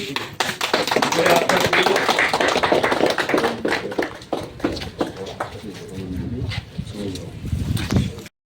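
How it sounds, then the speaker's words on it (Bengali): A crowd gives loud, rapid applause to welcome a school headmaster at a charity gathering, dense hand claps that thin out toward the end, mixed with voices and bird calls nearby. "জোরে হাততালি"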